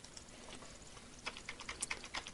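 Someone types on a computer keyboard, starting with a few sparse taps and then moving into a quick run of soft, close keystrokes. The room is quiet and no one speaks.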